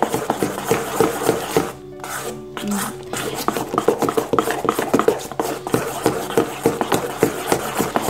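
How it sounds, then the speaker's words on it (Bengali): A spoon stirs amitti batter in a bowl for sweets, giving rapid rhythmic scraping and tapping strokes that run close and fairly loud, broken by a short pause with a brief tonal sound midway. "এখন এটা চামিচ দিয়ে প্রায় দুই মিনিটের মতো এটাকে নাড়তে হবে"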